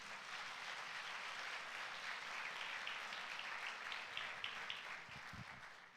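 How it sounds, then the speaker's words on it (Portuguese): Steady applause from a church congregation at a Sunday service, a continuous moderate wash of clapping heard from a little distance. "Vamos dar um aplauso a Ele?"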